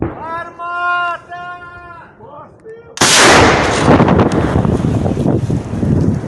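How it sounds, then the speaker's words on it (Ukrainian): A voice speaks briefly, then a loud, sharp cannon blast erupts and rolls into a long, roaring rumble that fills the rest of the clip. "Гармата!"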